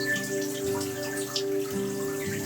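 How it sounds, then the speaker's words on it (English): Water flows gently and steadily beneath a sustained tonal hum during a morning yoga session, with no voices. "The sound of the water."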